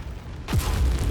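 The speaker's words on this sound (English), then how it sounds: "Oh, big explosion anyway" Big explosion in the mech combat game MechWarrior 5: a sudden loud booming blast that erupts after a brief quiet lead-in, then rumbles on with heavy low roar to the end, no talking.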